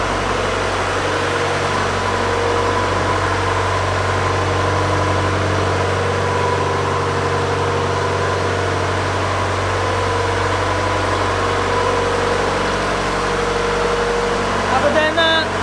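Inside a ship's engine room, the engines run with a loud, unbroken, low droning roar and mechanical hum that fills the whole stretch without letup.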